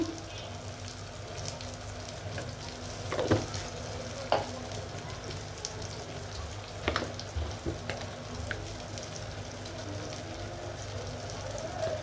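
Spices frying in a pan for hilsa fish curry give a steady low sizzle throughout, with a few sharp clinks of a spoon stirring against the pan, and no talking.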